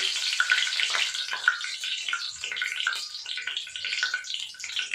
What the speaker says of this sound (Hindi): तो हम इसमें ये हमारी दालचीनी, करी पत्ता और लौंग डालेंगे।